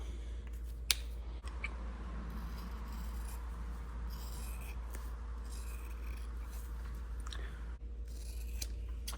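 Scissors trim a foam air filter for a 1974 Suzuki RL250 motorcycle, making soft repeated snips and rubbing scrapes over a constant low hum, close by and fairly quiet.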